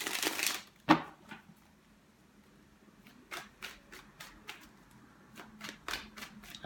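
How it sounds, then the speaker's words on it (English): A deck of cards is shuffled in quick, crisp riffling bursts, several in a row separated by brief pauses, close up in a quiet room. "Spirit is telling me to shuffle the deck one more time"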